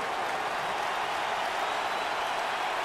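Steady stadium crowd roar from a Madden NFL 15 football game with the Carolina Panthers hosting the Philadelphia Eagles, a dense, even wash of cheering noise that holds at constant loudness with no distinct voices rising above it.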